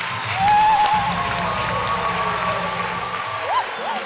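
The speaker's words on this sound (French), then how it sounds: "Maintenant, acclamez pour vous-même." A congregation applauds at a closing Mass in a church, a steady, dense wash of clapping that holds evenly throughout, with a few faint voices and whistles mixed in.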